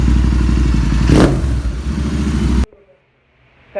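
Royal Enfield Interceptor 650 motorcycle fitted with a Red Rooster exhaust, idling loud and steady with a deep throbbing rumble and a brief rise in revs, then cutting off abruptly into near silence.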